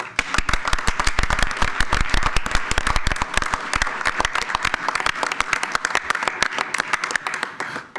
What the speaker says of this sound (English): please give Rick a round of applause